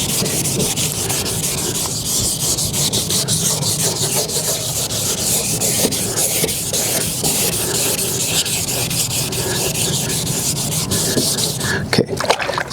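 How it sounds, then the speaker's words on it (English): A car headlight is wet-sanded by hand with sandpaper, giving a steady, continuous gritty rubbing that runs on without pause. "you want to keep wetting that sandpaper"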